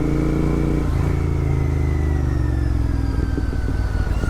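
A Royal Enfield Continental GT 650 motorcycle pulls away on a city ride, its engine note rising steadily and loud and close, with a slight shift partway through and some clatter near the end.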